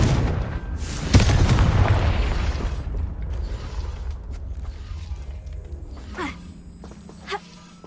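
Confringo fire spell explosion in Hogwarts Legacy: a loud booming blast that rumbles and decays over several seconds, followed by faint creaks and small mechanical clicks.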